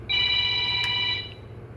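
A mobile phone ringtone sounds nearby in a garage during a fluid change on a 6S Mojave, a bright electronic tone held for about a second before cutting off, with no voices over it.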